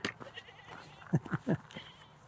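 Small goats bleating on a farm: a few short, wavering bleats clustered mid-clip, fairly close and moderately loud over quiet outdoor background.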